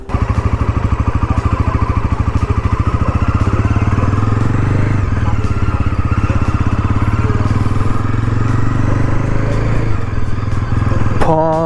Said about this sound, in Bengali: ধর্মনগর রোডে NS 400 নিয়ে আমি রাইড করছি এখন